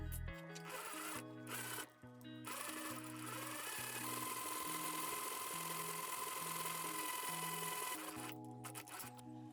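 Sewing machine fitted with a ruffling foot gathering dress fabric, running in a continuous loud mechanical whir with a rhythmic stitching pulse, pausing briefly near the start and again toward the end, close by.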